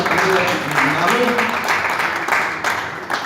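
Applause at a press conference for the 38th Melodije morja in sonca festival in Piran, a dense, sustained wash of clapping from a room of people over about three seconds.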